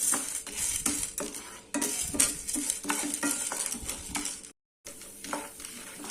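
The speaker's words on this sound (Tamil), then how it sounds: "இதை போட்டுட்டு மீடியம் ஃப்ளேமில் வச்சு வறுத்துக்கலாம்." Chana dal roasting in oil in a pan over a medium flame, with steady scraping and stirring of a utensil against the pan over a continuous sizzle, close and fairly loud, broken by one short pause.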